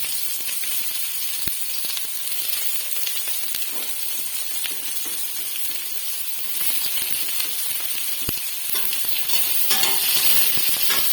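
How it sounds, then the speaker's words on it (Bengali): Chopped onion and green chili fry in mustard oil in a wok, giving a steady loud sizzle and hiss with occasional sharp ticks and pops, growing slightly more intense toward the end. "কড়াতে প্রথমেই সর্ষের তেল দিয়ে নিয়েছি। এর মধ্যে আমি পেঁয়াজ কুচি আর লঙ্কা কুচিগুলো দিয়ে দেবো।"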